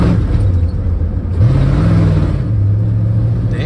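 A 1978 Ford Bronco engine with a swapped carburetor is punched to full throttle, a loud, continuous rev whose pitch climbs midway and then holds at a strained, high roar.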